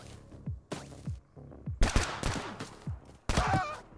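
Assault rifles fire in the Bullet League video game, sharp bursts and single cracks spread through the moment, with heavier overlapping volleys in the middle and near the end.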